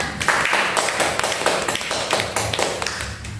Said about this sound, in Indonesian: Berikan aplaus untuk kelompok 1 anak-anak.